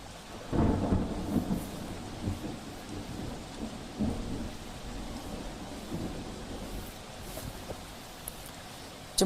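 Heavy rain pours during a cloudburst in Jammu and Kashmir, with rolling thunder rumbling several times over a dense, steady downpour.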